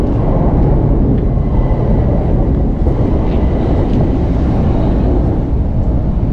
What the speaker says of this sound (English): Especially when you've got trains going over every 2 seconds.